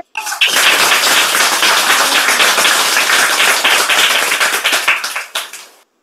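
Audience applause at a spiritual lecture: a dense, loud burst of clapping from a crowd that starts abruptly, holds steady for about five seconds, then thins into a few last claps and stops.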